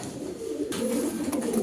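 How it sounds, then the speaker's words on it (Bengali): A female racer pigeon coos nearby in a short, low, throaty burst that rises slightly at the end over a soft background hum. "দর্শক আপনাদের চোখের সামনে একটা শ্যাডেল মাদি আসলে কবুতরটা খুব ছটফট একটা কবুতর দেখতে পাচ্ছেন"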